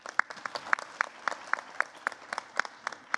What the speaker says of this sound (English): I wonder if you could please join me in applauding the tenacity and the contribution of the women entrepreneurs to the Indonesian economy.